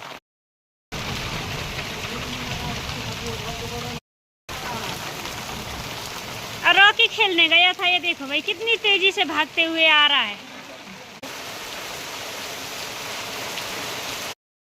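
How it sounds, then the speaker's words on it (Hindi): Steady heavy rain hisses throughout, with someone talking over it and a brief burst of birdlike chirping partway through. "काफ़ी तेज़ बारिश आ रही है।"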